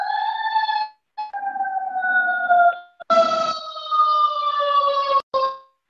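A city ambulance siren wails in the distance, a steady tonal cry that drops out briefly twice and then returns louder in a higher, shifting pitch, with no talk over it.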